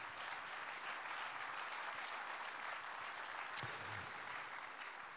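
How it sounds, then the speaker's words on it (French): An audience at the Crédit Agricole Centre Ouest Rubans Verts 2021 awards ceremony applauds the project leaders, giving an even, moderately distant wash of clapping with one brief sharp click near the end. "je vous demande déjà une première salve d'applaudissements pour tous les porteurs de projets de cette édition 2021"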